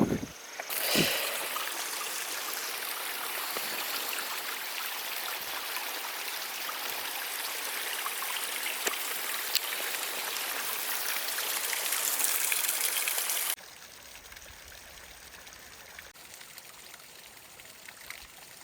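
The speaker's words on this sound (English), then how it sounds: "Oh, finally, here, a creek." A small mountain creek on a hike in the Washington alpine country gives a steady, close rushing wash of flowing water for most of the stretch, then drops suddenly to a much quieter, distant murmur near the end.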